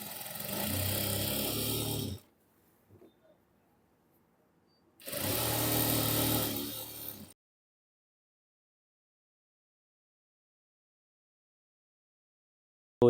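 An electric sewing machine stitches elastic onto the centre of a palazzo trouser, running in two steady whirring bursts of about two seconds each with a quiet gap between, then silence.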